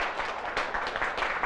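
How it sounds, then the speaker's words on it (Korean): Applause from an audience at a product business presentation, a short burst of dense, steady clapping heard close and fairly loud with no voices. "이분들을 위해서 큰 박수 한번 좀 부탁드리겠습니다."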